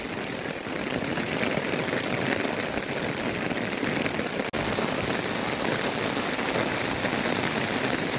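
A heavy downpour on the fourth day of Navratri roars as a dense, steady hiss of rain pounding surfaces, continuous and unbroken with no voices.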